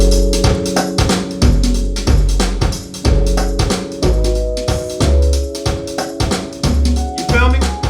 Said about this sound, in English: Now without the organ and just the electric sounds like this.